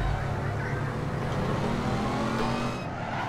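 A car driving in the online game APB Reloaded, its engine a loud, steady drone that holds close and constant throughout with no breaks.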